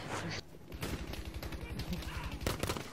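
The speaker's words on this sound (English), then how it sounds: "Shot me with a deagle or something." Desert Eagle pistol shots in a video game, a rapid string of close, punchy bangs layered with a voice talking over the gunfire.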